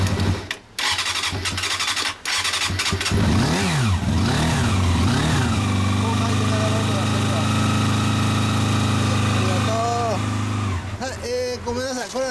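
A 1997 Kawasaki motorcycle engine revs up close, swelling and falling in a few throttle blips before settling into a steady, loud idle, with a final rev at the end.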